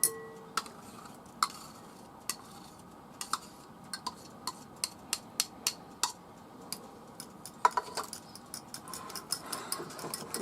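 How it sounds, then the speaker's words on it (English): A spoon stirring a wild morel casserole mixture with cottage cheese in a bowl, producing a string of light, irregular clinks and taps against the dish, close and clear over a quiet background. "Give that a nice little stir"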